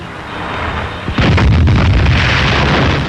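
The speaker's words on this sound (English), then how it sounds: "Ammunition by the ton is rushed up to the hungry guns that fired from dawn till dusk" Artillery guns fire in a World War II desert battle at Sidi Rezegh: a loud blast lands about a second in, then a dense, sustained rumbling roar of gunfire fills the rest, close and heavy, with no voices.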